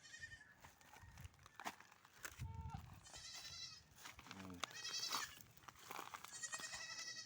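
Goats bleat repeatedly in a penned area behind corrugated iron sheeting, several calls overlapping at close range, while someone talks and metal sheets rustle.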